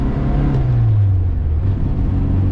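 A classic Mini's engine revs steadily while driving, a loud close drone with a low note that climbs gently and then settles, heard alone without talking.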